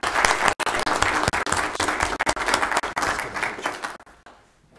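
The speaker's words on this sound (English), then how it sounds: "if this crowd would give another hand to the Swansons" Enthusiastic applause from the crowd at a Weber County Commission meeting, honouring a local family, heard as sustained dense clapping that tapers off quickly at the end.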